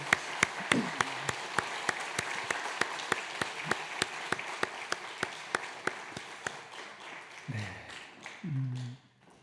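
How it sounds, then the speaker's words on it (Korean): A church congregation at a Sunday worship service claps in an even, steady rhythm, fairly faint and roomy. Near the end the claps give way to a few murmuring voices. "우리 들어가실 때 박수 다시 한번 부탁합니다."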